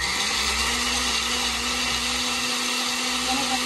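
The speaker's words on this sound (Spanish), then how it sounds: "Lo vamos a licuar y lo vamos a colar." Blender running continuously on salsa for garnachas, a loud, close, steady whirring motor drone that holds an even pitch throughout with no pauses or voices.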